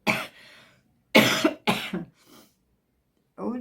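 Several harsh coughs from a person with the flu, in short bursts with pauses between, close and fairly loud, indoors during a painting session.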